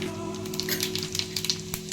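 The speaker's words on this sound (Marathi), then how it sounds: "तेल गरम झालेलं आहे आता आपण फोडणी करून घेऊया फोडणीमध्ये आपल्याला थोडी राई राई चांगली तडतडली आहे" Mustard seeds and cumin spluttering in hot oil for a Marathi tempering, made for a green peas aamti; a steady close sizzle with scattered sharp pops and crackles throughout.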